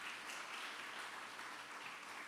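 Audience applause at a Christian sermon or worship gathering, a steady wash of many hands clapping together, sustained and even throughout with no pauses.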